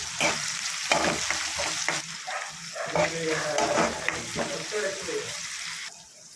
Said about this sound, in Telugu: ఇప్పుడైతే అరగడ్డలు పచ్చిమిరపకాయలు అయితే వేయాలి.